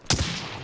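A single sharp sniper rifle shot cracks out in a first-person shooter game, one loud close report with a short booming tail that fades quickly.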